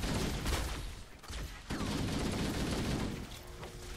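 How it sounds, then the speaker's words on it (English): Grenade blasts and gunfire in the Halo: Combat Evolved video game, a dense continuous rumble of shots and explosions throughout with a brief dip midway. "Oh, that's a grenade."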